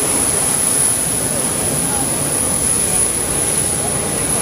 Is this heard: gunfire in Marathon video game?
no